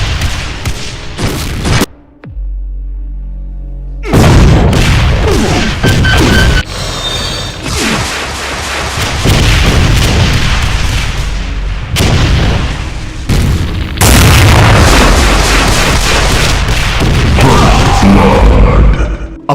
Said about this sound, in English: a barrage of straight explosive rockets